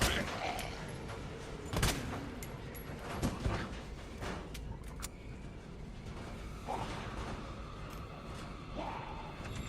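Gunfire in the video game Resident Evil 2, a few sharp shots spaced seconds apart over a dense, busy game soundscape at moderate volume.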